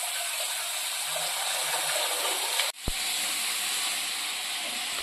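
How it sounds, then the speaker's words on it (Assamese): Duck meat fries in a pan during Assam village-style home cooking, making a loud, continuous hissing sizzle that cuts out briefly near the middle and then resumes. "মাংস ভাজি হৈ গ'ল"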